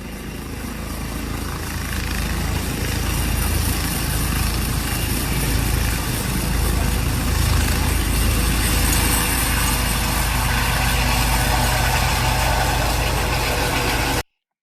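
Helicopter engine and rotor running steadily and loud for the whole stretch, a continuous broadband roar with no talk over it, as heard from a played recording.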